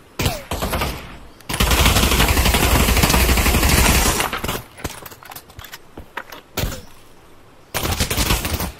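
Pistol gunshots in the VR shooter Pavlov VR: bursts of sharp shots alternate with long stretches of loud, sustained rapid firing, broken by brief quieter gaps with scattered single reports.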